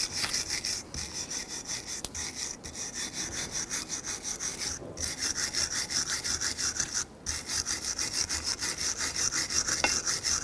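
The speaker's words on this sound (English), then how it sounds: "grab a bristle brush and let's clean where these sliders go here" A stiff bristle brush scrubs back and forth in the slider grooves of a Hummer H3 rear brake caliper, a steady rasping scrape with brief pauses between strokes, close and fairly loud.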